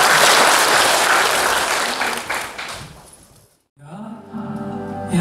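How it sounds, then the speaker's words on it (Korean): A church congregation applauds loudly during a Sunday service, then the clapping fades out. After a short pause, music with singing begins. "뜨거운 박수"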